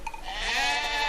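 A single close, drawn-out sheep bleat in a snowy outdoor setting, rising and wavering over about a second.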